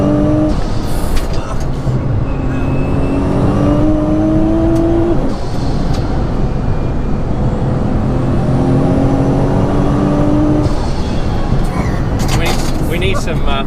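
An 1100bhp Nissan GT-R with JM Imports tuning pulls hard on a slippery country road, its engine note rising through gears with shifts and wind roar, loud from inside the cabin, while people talk over it.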